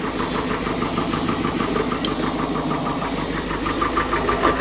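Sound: 1968 Starcraft Islander boat engine running warmed up, 120 horsepower

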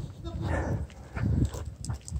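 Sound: dog barking and whimpering during a confrontation

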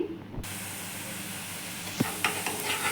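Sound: spice tempering sizzling in pan

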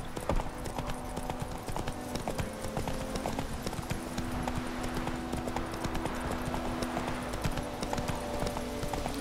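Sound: horse hooves trotting on road in video game The Witcher 3

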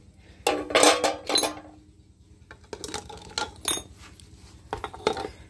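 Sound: dishes being placed into a bucket for washing

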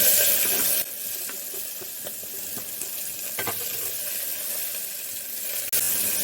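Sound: finely chopped onion frying in oil for misal

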